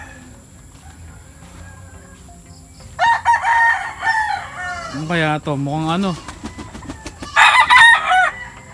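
Gamefowl roosters at Rolling Hills Game Farm in Montalban, Rizal, let out a series of loud, close crows, one after another, while someone talks briefly between the calls.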